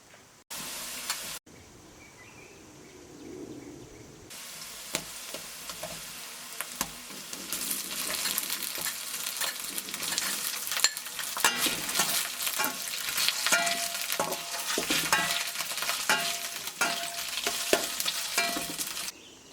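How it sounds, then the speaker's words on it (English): Chilies stir-fried in hot oil in a pan for fried beef, a quiet start giving way to a loud, steady sizzle with scraping stirs that grows denser over the second half. "Stir fry the chilies for about 5 minutes and then we can add the beef"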